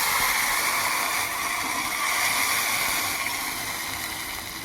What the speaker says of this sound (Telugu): ఇప్పుడైతే ఇక కొంచెం పక్కకు నీళ్ళు పోస్తా